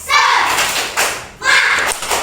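Children do a rhythmic spirit clap in a classroom, three loud, close bursts of clapping and chanted voices separated by short pauses.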